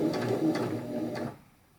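A beginner-friendly sewing machine with a needle threader stitches fabric as a steady, close mechanical whir with a fast repeating clatter. It runs for over a second and then stops, and a small click sounds near the end.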